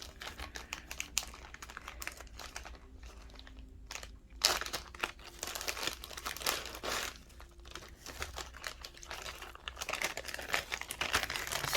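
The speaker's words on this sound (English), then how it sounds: "sorry about the crinkling, you guys" Plastic packaging crinkles and crunches up close while a bead box is unboxed, steady rustling with a few sharper crackles and no talk over it.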